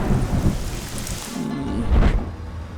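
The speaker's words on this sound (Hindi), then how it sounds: "बारिश पसंद है तो फिर बारिश में भीगो।" Heavy rain pours steadily while deep thunder rumbles loudly in the foreground, swelling twice across the short stretch.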